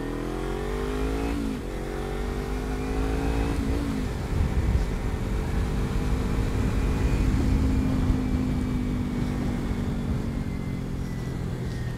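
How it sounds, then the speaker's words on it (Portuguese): Kawasaki Ninja motorcycle engine revving steadily to warm up, loud and close, with rising and falling throttle blips over a continuous engine drone and no talking. "Só pra dar uma esquentada no motor da Ninja."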